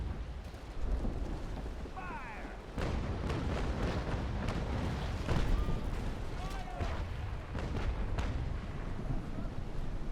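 Ship cannons in the Naval Action: Legends naval battle game fire in heavy booming volleys, deep rumbling blasts repeating over several seconds beneath a player's voice.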